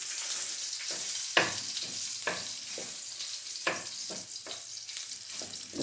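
Chicken skin crackles and sizzles steadily in a hot pan, with a continuous bright hiss broken by several sharp pops and spatters, close and fairly loud, no talking.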